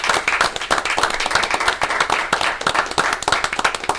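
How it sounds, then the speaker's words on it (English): Sustained applause from a township committee meeting audience honoring a departing community member, dense steady clapping from many hands filling the room, fairly loud and continuous with no talk. "I think we all gotta give her a big applause"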